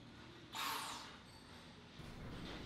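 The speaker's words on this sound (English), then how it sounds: "the nut is further tightened to the rotation that is listed within the application standard" A nut tightened on a bolt during a rotational capacity test in a quality lab gives a short mechanical grinding creak, faint and close, followed by a low steady hum.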